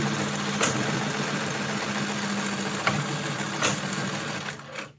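A Juki LZ 2280 B zigzag industrial sewing machine without a direct drive motor hums steadily up close, with a few faint knocks as it back tacks, fading out at the end.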